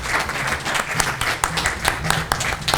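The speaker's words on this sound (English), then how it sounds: "give this board a round of applause because they did" A room at a school district board meeting breaks into applause for the board, dense clapping from a modest crowd with a few sharp, close claps standing out above a low background hum.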